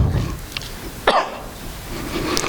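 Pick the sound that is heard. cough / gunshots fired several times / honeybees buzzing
cough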